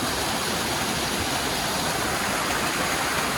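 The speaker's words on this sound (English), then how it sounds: "So that's where the water actually come from. Right out of the rock right here." Spring water pours steadily out of rock on a hillside, a close, loud, unbroken rushing hiss with no pauses or voices.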